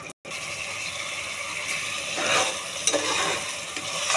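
Vegetable bhaji fries in a pan with a steady, close sizzle. The spoon scrapes and stirs through it in short rattling bursts.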